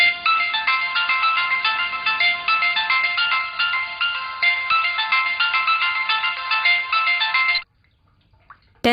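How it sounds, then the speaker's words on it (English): An electronic doorbell chime rings in a rapid, repeating melodic pattern for several seconds, loud and close, then stops abruptly, leaving near silence. "I've been ringing the bell so many times."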